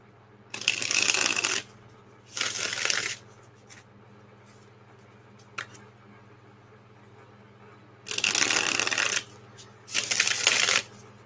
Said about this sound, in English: shuffling her cards and focusing right now